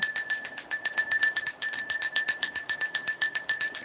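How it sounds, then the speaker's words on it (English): A small bell rung rapidly and continuously, bright sustained ringing with even, quick strikes, loud and close with no talking. "Hold on, I have to ring the bell."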